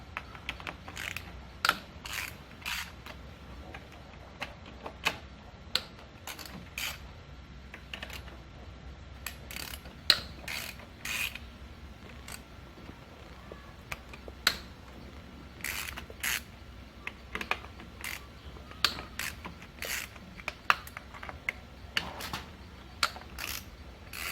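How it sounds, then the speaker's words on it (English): A ratchet loosens the valve cover bolts on a Nissan VQ35DE V6 engine, with bursts of rapid clicking separated by pauses and occasional louder clacks, close and dry, and no talking. "There is a total of 9 bolts that need to be removed for this left side twin cam valve cover."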